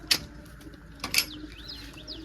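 Pigeons heard close by in a loft with their squabs, two sharp wing-flap or scuffle bursts followed by soft warbling coo-like calls, fairly faint.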